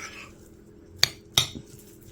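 A fork works through cooked chicken in a bowl, shredding it fine for carnivore pizza muffins, giving two sharp, close metallic clinks against quiet background.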